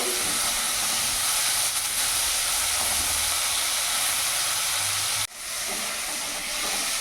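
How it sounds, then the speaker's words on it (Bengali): Shrimp frying lightly in a wok makes a loud, continuous hissing sizzle close by, broken by a sharp momentary dip before resuming just as steadily. "চিংড়ি মাছটা খুব একটু ভাজবো না, আমি হালকা ভেজে তুলে নেবো।"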